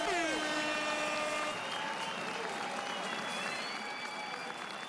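Applause from a crowd, a steady dense patter of clapping that holds throughout with faint music tones fading underneath.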